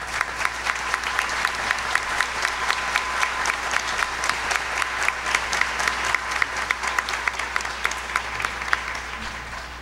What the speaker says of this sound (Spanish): como el maestro Óscar Palomino Pastor, para quien pedimos fuertes aplausos